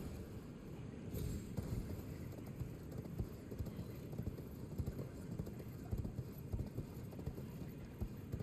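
Horse hooves galloping in the video game Elden Ring, a steady busy stream of low thudding footfalls running throughout, fairly loud and continuous with no pause.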